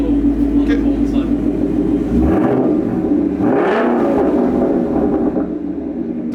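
A Ford Mustang engine idles inside a garage with a steady, deep rumble, and a rising whir swells and fades midway while people talk nearby.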